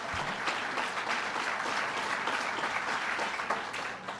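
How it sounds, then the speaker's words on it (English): Audience applause at a governor's budget message event in Westchester, a steady dense wash of clapping sustained throughout without pauses, fairly close and full. "Let's give her a round of applause"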